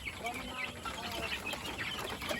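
Chickens clucking in a poultry pen on a small farm, a steady chatter of overlapping clucks and calls with some voices talking nearby.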